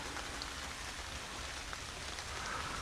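Almost heavy rain falls outdoors during a drone flight, a steady broadband hiss of drops with no talk.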